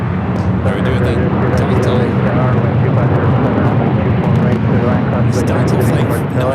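A jet airliner roars on takeoff at LAX airport, a loud, continuous broadband rumble that holds steady throughout, with faint talk mixed in.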